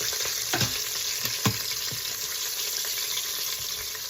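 A second batch of Korean-style short ribs sears in a hot pan, giving a steady close sizzle with a few sharp pops and crackles, without any voices.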